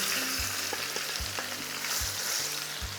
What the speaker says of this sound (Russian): Пока перец обжаривается,